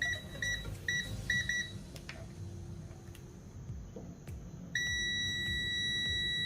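Multimeter set to continuity, beeping while its probes test breadboard rows: several short clustered beeps, then one long sustained tone, moderately loud over a low background hum.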